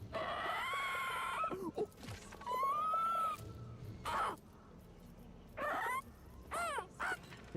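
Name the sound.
bird noises, rooster crowing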